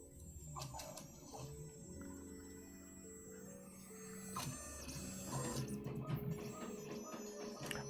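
A Revo Roto 3D printer runs glitter filament at high speed, a steady whirring hum with tonal stepper-motor whines shifting in pitch and quick ticking moves, close and continuous throughout.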